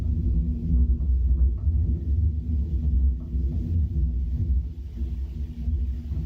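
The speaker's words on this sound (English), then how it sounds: "And that's thunder, folks." Low, continuous rumble of thunder rolling on for several seconds, deep and steady with slow swells, no voices.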